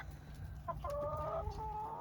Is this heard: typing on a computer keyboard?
no